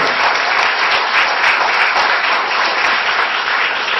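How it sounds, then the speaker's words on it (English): Sustained applause from an audience at a West Branch Local School District board meeting for the school board members, a loud, dense, even wash of clapping with no break. "let's give the school board members a nice round of applause"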